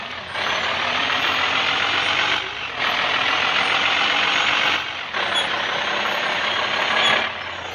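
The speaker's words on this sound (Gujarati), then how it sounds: "હવે ટ્રક થોડું આપણે રિવર્સ લેવો પડશે." A heavy truck reverses after pulling onto the wrong side of the road during a U-turn. A loud, steady engine roar fills the clip, with short dips at regular intervals that may be reversing beeps. No one speaks.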